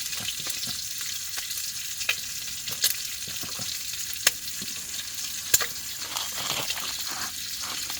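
Bacon frying in a pan at a cold-weather campsite, a steady close crackling sizzle with scattered sharp pops and spits, no one talking.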